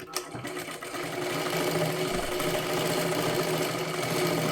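A sewing machine runs steadily, stitching a fold of blouse-piece cloth being made into a puja-plate cover, its motor whirring close and continuous after a brief start.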